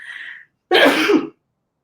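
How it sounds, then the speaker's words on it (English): A single sharp, loud sneeze up close, preceded by a brief breathy intake and a short pause. "Live sneeze."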